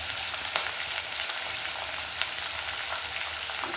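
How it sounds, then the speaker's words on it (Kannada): Curry leaves hit hot oil for avarekalu uppittu, producing a bright, crackling sizzle that stays steady and fairly close throughout, with small pops and spatters scattered across it. "ಇದೆಲ್ಲ ಚೆನ್ನಾಗಿ ಫ್ರೈ ಮಾಡೋಣ."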